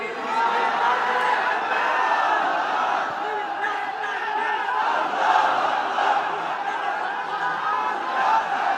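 Large religious gathering erupting in a loud collective chant, many voices shouting together in a sustained, dense roar that swells and persists for several seconds.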